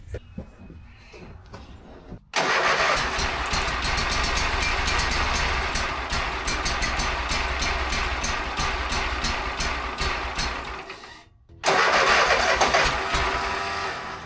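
Toro MX5050 zero-turn mower engine starting with a faulty-feeling automatic choke, cranking briefly, catching into a loud steady run, cutting out, then restarting loudly near the end.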